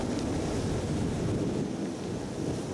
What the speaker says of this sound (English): Oh, it's proper windy here.